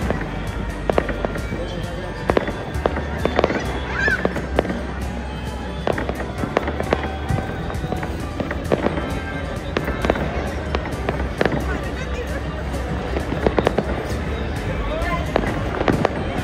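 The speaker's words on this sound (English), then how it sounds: "This person might have spent a lot of money to buy this cracker because it's kind of 100 shots" A 100-shot firework cake bursts overhead during an Uttarayan festival, sharp cracks firing in a rapid, irregular string for the whole stretch, with voices talking in the background.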